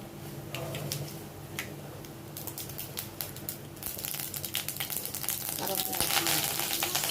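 Mustard seeds hit hot oil and start to crackle, scattered sharp pops growing denser and louder over a frying sizzle, close up, with the popping building toward a busy spluttering.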